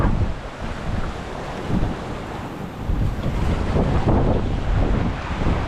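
A large breaking ocean wave slams into a small sailboat on a solo Atlantic crossing; a heavy rushing wash of surf and roaring wind buffets the hull, surging louder in the second half, with no talk.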